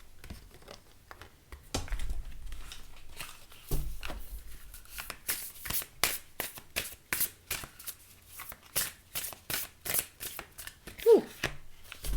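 Oracle cards are shuffled by hand for a reading, a rapid run of close, crisp riffling flutters and soft card slaps that picks up into steady bursts, with faint background sound between them.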